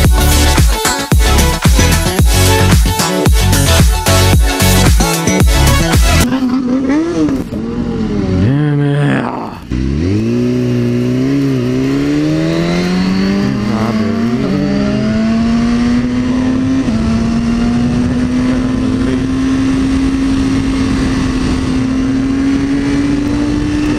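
A motorcycle engine revs hard in rapid bursts on the road, then settles into a long rising drone as it accelerates away, loud and close with no talk.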